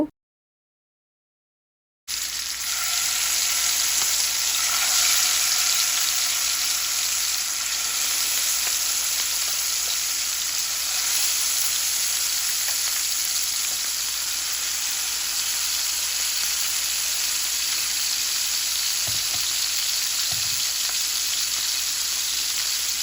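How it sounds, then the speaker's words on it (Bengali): Fresh rohu fish pieces sizzle in about two tablespoons of hot oil in a pan, a loud, steady crackling fry that starts abruptly and continues evenly with occasional pops. "আমি দুই টেবিল চামচের মতো তেল দিয়ে দিলাম এক এক করে মাছগুলোকে এখন অ্যাড করব"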